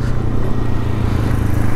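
A scooter rides over wet sand at Gorai Beach, its engine giving a steady, loud, close drone that holds unbroken throughout with no talk.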